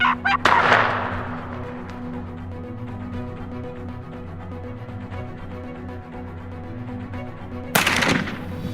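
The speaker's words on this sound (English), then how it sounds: "They use fake decoys that resemble real turkeys, combined with fake calls that sound every 15 minutes to attract prey." A turkey gobble call rings out, a loud rattling burst at the start with another at the end, over a steady mechanical drone in between; no one speaks.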